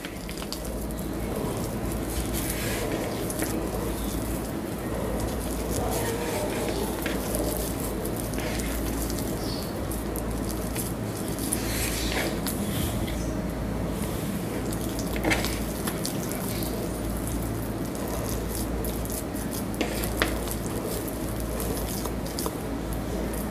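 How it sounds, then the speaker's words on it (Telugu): Oiled hands lift and fold wet focaccia dough in a continuous stretch of soft squishing and sticky slapping, close up over a steady low background hum, with no talk. "ఇప్పుడు మనం జస్ట్ ఆయిల్లో అలా చేయి డిప్ చేసి దీన్ని ఇలా లిఫ్ట్ చేసి ఇలా ఫోల్డ్ చేసినట్టు చేయాలి"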